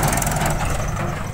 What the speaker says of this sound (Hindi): अभी इस ट्रैक्टर को देखना बेटा, डव डेव डव करके जाएगा